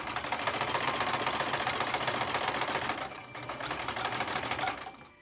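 A sewing machine back stitches a fabric surgical mask, running in a fast, steady mechanical rattle of needle strokes with a brief pause midway, close and alone.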